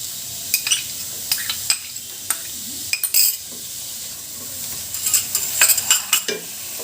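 Chopped onions fry over high heat in melted butter, with a bright sizzle broken by frequent metallic scrapes and taps of a spatula against the pan, close and without any voices.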